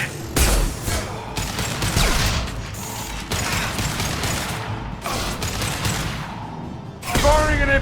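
Impact shot gunfire during combat in Mass Effect 2, a loud dense stretch of mechanical clatter, ratcheting and bursts of weapon fire with brief pauses, busy and close throughout.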